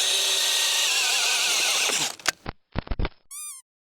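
A DeWalt 18V XR DCD996 drill bores into wood with a loud, steady whine that winds down, followed by a few short bursts and brief squeaks before stopping.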